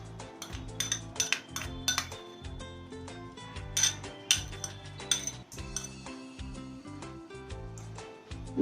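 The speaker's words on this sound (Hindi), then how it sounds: "अब हमें इसमें क्रश किए हुए अदरक को डाल देना है।" Crushed ginger is added to a pan of water, with repeated sharp metallic clinks and taps of a utensil against the pan in an irregular rhythm, close and fairly loud, with no talking.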